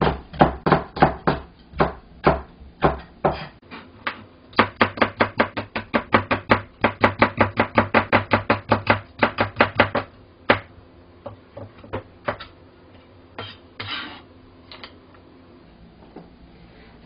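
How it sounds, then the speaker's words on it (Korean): A knife slicing green bell pepper into thin strips on a board in fast, even runs of crisp taps, pausing briefly, then slowing into sparser cuts, close and clear with no voices. "자, 채를 썰겠습니다."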